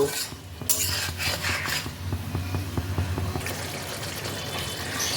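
Spice paste stirred with a splash of water in a pan for a cabbage and fish-head ghonto, with repeated clinks of a metal spoon against the pan, wet mixing sounds and a low background sizzle.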